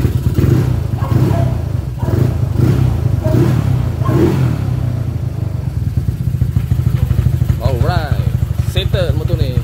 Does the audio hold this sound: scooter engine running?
yes